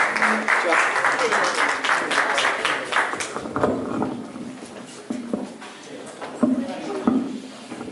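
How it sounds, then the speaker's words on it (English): A round of applause at a panel event welcoming a spoken word performer, crisp clapping for about three seconds that thins into scattered claps, shuffling and murmuring voices as people settle. "Let's welcome her with a round of applause"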